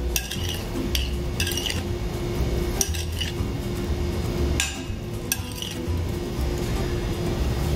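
A spoon mixes aguachile verde in a bowl to dissolve salt, with light irregular clinks and scrapes against the bowl over a low steady background hum.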